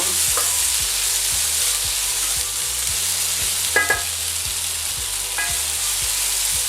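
Cherry tomatoes with toasted tomato paste sweat gently in a pan, a continuous close sizzle with soft stirring scrapes and a low rhythmic ticking underneath, no talk.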